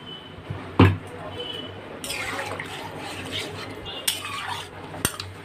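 Metal spoon scraping and clinking around a cooking pot while spice mixture is stirred, with a sharp clank near the start, a louder stretch of wet scraping midway, and another knock toward the end.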